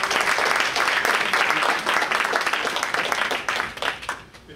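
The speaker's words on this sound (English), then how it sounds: "why don't you give these two guys a nice hand clap here today" A church congregation gives a hand clap for two guest speakers, brisk crowded clapping that starts full and tapers off near the end.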